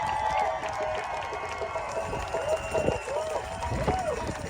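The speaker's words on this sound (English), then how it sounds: "Can we have a big cheer from everyone on the beach here? Come on, big cheer." A crowd of protesters cheers together on a beach during a blockade at a coal port, a loud, sustained swell of voices and shouts with wavering whistle-like calls on top, fairly close and continuous throughout.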